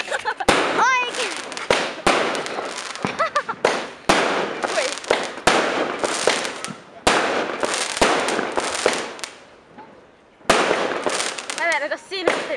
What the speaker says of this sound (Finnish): Tuolla ilotulituksen juttu lentää ja...